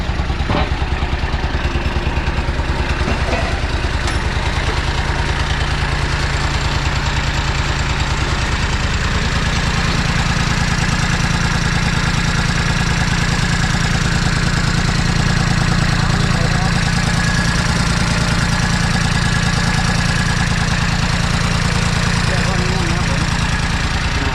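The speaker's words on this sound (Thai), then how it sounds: "เดี๋ยวเราจะเปิดเครื่องดูกันนะครับ" A used Kubota B2420 tractor fitted with a front blade and rear disc plough sits with its engine running at a steady, loud diesel idle. The constant knocking rumble stays close throughout, with no pauses.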